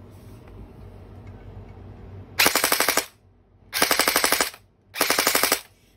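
A Honey Badger gel blaster fires in full-auto mode: three loud rapid bursts of fast repeating clacks, each lasting about half a second to a second, with short silent gaps between them.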